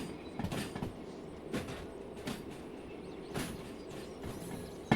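Railway wagons rolling slowly along track at low shunting speed in the Derail Valley train simulator, a steady rumble with rhythmic clicks and clacks of wheels over rail joints, continuous and fairly close.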